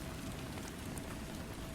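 Gentle rain falls steadily on a surface in a soft, continuous hiss with scattered small drop patters, even and unbroken throughout, with no voices.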